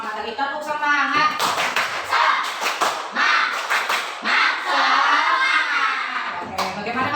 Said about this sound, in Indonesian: Yuk, biar lebih semangat lagi. Tepuk semangat.